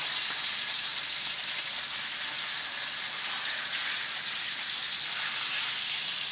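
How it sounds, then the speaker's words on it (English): A porterhouse steak sears in a hot oiled pan, giving a loud, steady sizzle and hiss that stays close and unbroken throughout, with no talking over it. "You can hear we've got a really nice heat in there."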